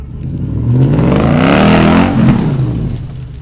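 A 300-horsepower V8 in an all-wheel-drive VAZ-2101 revs once, its deep exhaust swelling loud and close, holding briefly, then falling away over a few seconds.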